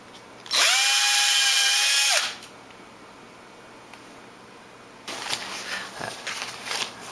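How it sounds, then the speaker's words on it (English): A power drill bores holes into a 1/16 scale Turnigy 4WD Monster Beatle RC truck body, one loud steady whine lasting under two seconds, followed by quiet and then faint handling and rustling noises. "So if you put the switch there, you can drill a couple holes"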